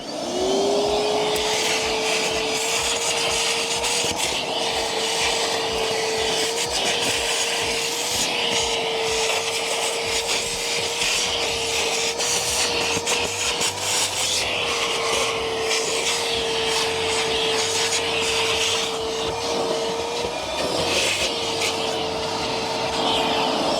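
Milwaukee M12 Fuel 1.6-gallon cordless wet/dry vacuum running on its second power level inside a car, a steady, loud, continuous motor whine with airflow hiss, holding an even pitch throughout with slight wavers.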